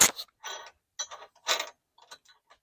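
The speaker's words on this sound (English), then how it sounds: "All right, so we're gonna ratchet all those nuts" A hand ratchet tightens nuts while a tow hitch is bolted onto a Honda Element, giving several short clicking bursts in an irregular rhythm, close and fairly loud.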